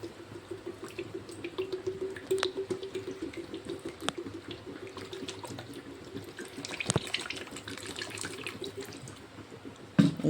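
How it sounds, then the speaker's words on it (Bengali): Water is poured into a pan of cream while making homemade ghee, a quiet continuous splashing trickle with a few sharper drips and knocks over a soft background. "এখন আমি জল দিয়ে দেব। জলটা একটু বেশি করেই দিতে হবে।"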